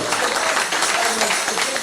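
An audience at a political speech in Mauritius claps in approval, a close, dense burst of applause that stays uniformly loud for its short length, with a few voices mixed in.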